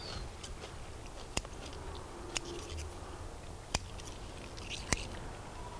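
Someone bites into a fresh vegetable just picked in a home garden, with a few sharp crisp crunches over soft rustling outdoor ambience and no talking.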